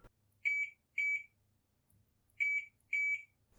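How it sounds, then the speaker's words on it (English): A multimeter in continuity mode gives four short electronic beeps, two quick pairs separated by a pause, clear and high-pitched against near silence. "continuity mode is going to make your meter beep whenever you touch 2 points"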